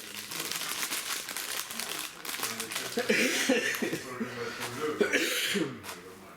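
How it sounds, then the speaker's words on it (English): A man coughs and clears his throat a few times amid crinkling and background chatter, close to the listener. "You still coughing, my friend?"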